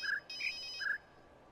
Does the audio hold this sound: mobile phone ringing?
yes